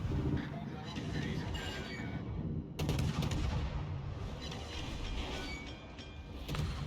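Naval gunfire in the World of Warships video game: dense, loud booming shot blasts with a sharp burst near the three-second mark, continuing under a steady rumble of game noise throughout.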